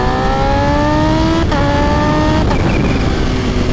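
A Kawasaki Ninja H2 motorcycle engine revs hard nearby, its pitch climbing steadily, dropping briefly at two gear shifts, then climbing again.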